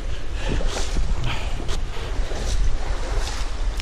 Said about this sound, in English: There is so much water flowing out of this place.